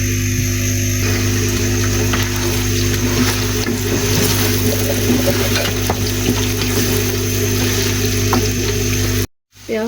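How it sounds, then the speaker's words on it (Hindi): Two medium chopped onions frying in about half a cup of oil in a pan, a steady close sizzle with a constant hiss throughout, briefly dropping out near the end. "प्याज फ्राई हो रहे हैं"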